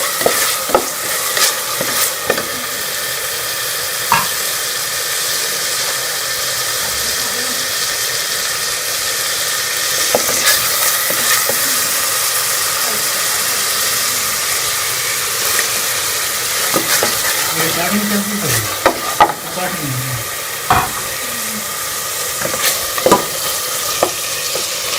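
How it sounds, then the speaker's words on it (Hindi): Tomatoes, green chillies and spices stir-fried in a pan for moong dal tadka: a loud, constant sizzle with repeated spatula scrapes and clatters against the pan, close up, with no speech. "इसमें जो है अच्छी तरह से भून लेंगे, और टमाटरों को जो है वो हम थोड़ा सा सॉफ्ट कर लेंगे"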